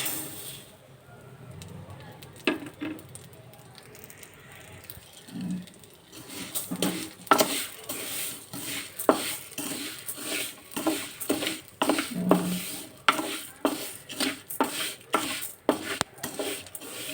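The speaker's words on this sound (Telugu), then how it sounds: "సేమియాలు అయితే ఫ్రై చేసుకోవాలి." Vermicelli frying in about three spoons of ghee in a pan, stirred with a spoon that scrapes and taps against the metal in an irregular rhythm. The sizzling and clatter start quietly and grow busier partway through.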